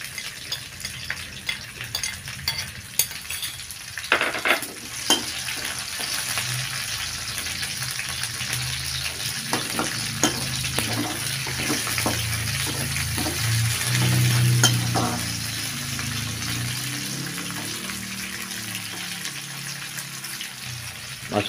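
Sliced green and red chilies frying in oil in a pan for ikan gurame goreng bumbu tauco, giving a continuous close sizzle with occasional stirring scrapes and clatters and a swell of crackle partway through.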